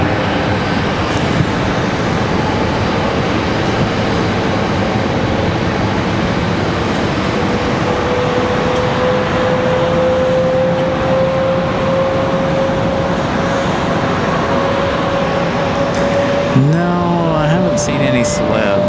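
Delta airliners, a 737-900, a 717 and a CRJ, taxi toward the runway at Raleigh-Durham International Airport on a windy day, a steady loud engine roar over wind rumble with a faint whine slowly rising in pitch, no talking.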